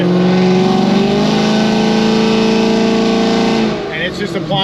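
An LT1 Camaro running on E85 with ported heads, a hotter cam and MSD ignition, held under load at wide-open throttle, producing a loud, sustained, close engine roar. The roar cuts off abruptly near the end, and no one speaks.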